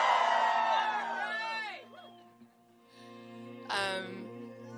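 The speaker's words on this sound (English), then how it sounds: "Can I get a louder scream than that?" Concert crowd at a live show in Los Angeles screaming and cheering loudly, a dense roar that fades out, then a second burst of whoops rises near the end.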